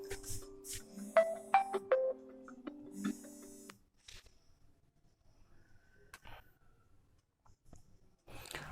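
A mobile phone ringtone plays a loud, repeating melodic tone for several seconds during a chemistry class lecture, then cuts off, leaving a quiet room with faint clicks.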